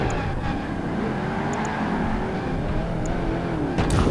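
Race car engines from Project Gotham Racing 2 drone steadily and loudly throughout, a continuous high whine of revving motors with a few faint ticks, and no voices.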